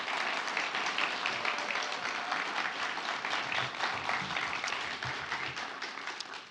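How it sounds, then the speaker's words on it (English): Applause from an audience at a chimp homecoming celebration honors the family of Bill Richardson, a fairly quiet but continuous wash of clapping from a crowd heard at some distance. "Can I ask for a round of applause for the family of Bill Richardson?"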